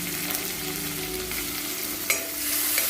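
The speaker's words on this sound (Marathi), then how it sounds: "टोमॅटो पण छान असा सॉफ्ट होईपर्यंत आपल्याला परतवायचा आहे" Tomatoes sauté with onion in a pan for a sprouted moong curry, giving a continuous close frying hiss with soft stirring scrapes and one sharper knock near the end, no voices.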